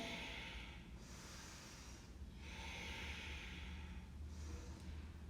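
Slow, deep breaths during a yoga flow, each long airy inhale and exhale audible in a quiet room, with soft rhythmic pauses between breaths.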